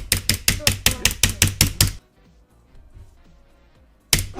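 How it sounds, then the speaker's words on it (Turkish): Hard, heavy keypresses on a keyboard space bar during a game stream, nine quick loud clacks in a steady rhythm over two seconds, a short quiet gap, then one more sharp hit. "Ya abla yavaş bas şu space tuşuna."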